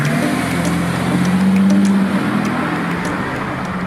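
A 6-litre Bentley Continental GTC drives along with a steady, smooth engine hum and road rumble, with a brief rise in engine note midway, and no talking.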